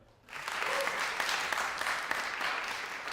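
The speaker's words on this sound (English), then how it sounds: "Another round of applause, please, for Ezra." Applause from a recital audience swells in after a brief quiet moment and then holds steady as a dense, continuous wash of clapping with no speech.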